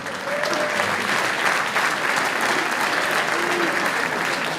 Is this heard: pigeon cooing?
no